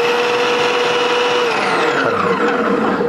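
An electric mixie fitted with a chopper attachment whirs loudly and steadily while chopping vegetables at a single speed, and its motor pitch drops as it spins down near the end.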